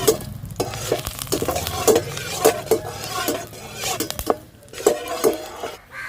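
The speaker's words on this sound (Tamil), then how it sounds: "அடுத்து கொஞ்சம் வெங்காயம்லாம் போட்டு அப்படியே தாளிச்சுக்கிறோம்." Onion and dried red chillies crackle in hot oil in a frying pan while a spoon scrapes and clinks against the metal in repeated close stirring strokes over a steady sizzle.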